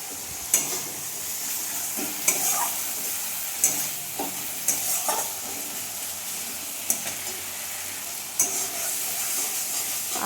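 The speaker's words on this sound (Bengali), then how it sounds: "আদা বাটা জিরে গুঁড়ো আর ধনে গুঁড়ো দিয়ে দিয়েছি। এই মশলাটা একটু কষিয়ে নিয়ে সবজিগুলো দিয়ে দেবো।" Ginger paste with cumin and coriander powder masala sautés in a pan for a Bengali fish curry, a low steady sizzle broken by repeated sharp spatula scrapes and taps at irregular intervals.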